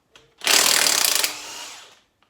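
Power tool loosening cylinder head bolts on a seized Ford 302 5.0 V8 during teardown: a short, loud whirring, rattling burst lasting about a second and a half, alone and close.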